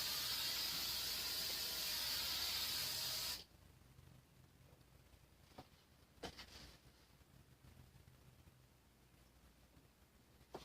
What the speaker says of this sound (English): So really spray the back of your hair extremely, extremely good